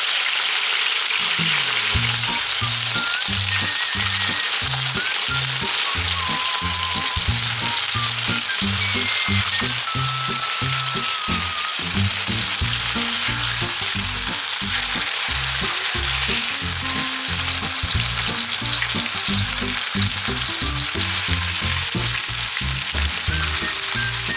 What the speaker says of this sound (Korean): 식용유 3바퀴 두르고 양념을 잘 털어서 팬에 올려요